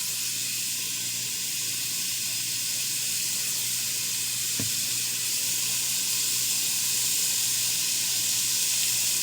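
Boneless pork rib steaks sizzle in a pan with a steady, close, broadband hiss that holds throughout, broken once by a brief clunk midway, with no talking.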